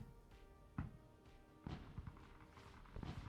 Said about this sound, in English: Oh, there's fireworks.